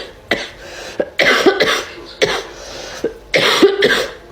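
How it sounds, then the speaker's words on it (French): A person with the flu coughs in repeated close bursts, three loud clusters of harsh coughs spaced about a second apart with short breaths between. "La toux est moins grasse que tout à l'heure."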